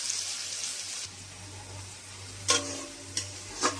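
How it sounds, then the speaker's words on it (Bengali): Onions fry in a pan on a home stove, giving a faint, steady low sizzle that runs throughout, with three short clattering stirs near the end. "পেঁয়াজটা ভালো মতন ভাজা হয়ে গেছে।"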